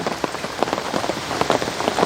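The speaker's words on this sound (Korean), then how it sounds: "지금 비가 오고 있어서" Steady rain patters on a hard surface nearby, dense drops tapping without pause and with no voices.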